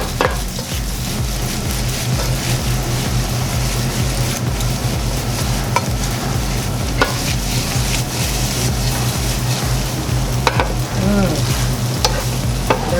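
Penne pasta is stirred into a sizzling Cajun chicken sauce with Parmesan in a pan, giving steady frying noise and scraping stir strokes close by, with no talking.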